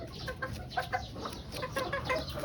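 A white Kelso gamefowl pullet, a pure-bred young hen, clucks in a steady run of short, close calls, joined by other farm birds and underlying yard noise.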